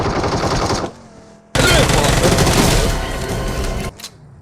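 Rapid automatic gunfire in the mobile shooter BGMI (PUBG Mobile), loud bursts of close shots, a short pause, then a longer dense volley before stopping abruptly.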